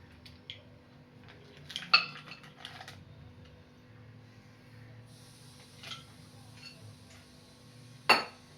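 A new 3-litre cookware pot and its lid being handled, sparse metallic clinks and clatters with a couple of sharper knocks against a quiet background.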